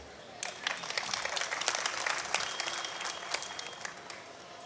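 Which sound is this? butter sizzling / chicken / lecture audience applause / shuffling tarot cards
lecture audience applause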